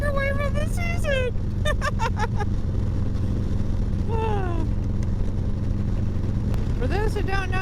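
A motorcycle being ridden, its engine a steady, constant drone running throughout beneath a voice speaking over it.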